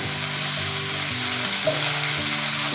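Minced pork stir-frying in a hot pan for a Thai stir-fry with water lily stems, a steady close sizzle with occasional scraping stirs throughout, no voices.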